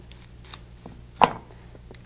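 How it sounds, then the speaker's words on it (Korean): A knife chops through the base of a rinsed broccoli head on a cutting board, one sharp knock in the middle with faint kitchen handling noises before and after. "그 다음에 요 밑둥을 잘라서"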